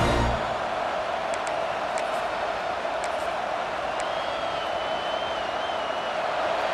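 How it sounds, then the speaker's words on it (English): A stadium crowd cheers and roars in the video game College Football 26, a steady loud wall of noise with game commentary spoken over it. "This crowd bringing the energy and noise early."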